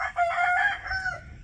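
A rooster crows once in a long, strained call that carries over the outdoor backyard flock, fairly close and clear, with no one speaking.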